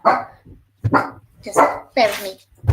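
A pet dog barks in short, sharp bursts indoors, several barks spaced across a few seconds and mixed in with someone talking close to the microphone.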